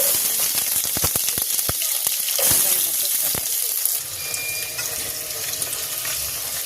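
Onions drop into hot oil with a few sharp clatters, then a steady sizzling hiss of frying, with some running-water-like noise.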